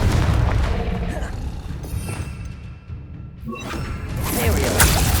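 A Confringo blasting spell in Hogwarts Legacy erupts as loud, dense booming and crackling thuds amid battle noise, dipping briefly in the middle before a fresh burst swells back up.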